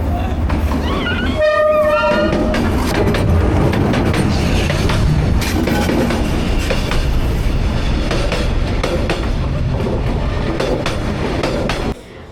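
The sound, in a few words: train passing through a narrow street in Hanoi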